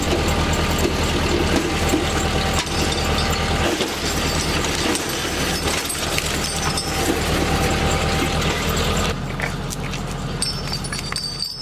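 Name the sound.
logging winch pulling cable onto drum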